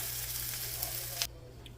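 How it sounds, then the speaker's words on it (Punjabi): Corn roti laid on a hot tawa, a soft continuous hiss with a low steady hum beneath, ending with a brief scrape before the sizzle drops away. "ਹੁਣ ਆਪਾਂ ਇਹਨੂੰ ਤਵੇ ਤੇ ਪਾਤਾ"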